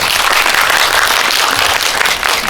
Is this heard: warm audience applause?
yes